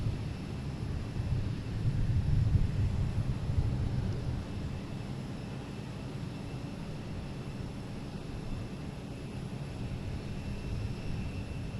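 A Delta Embraer E175 jet departs runway 22 right at Boston Logan, heard from a distance as a broad, steady rumbling roar that swells slightly early on and then holds with a wind-like wash.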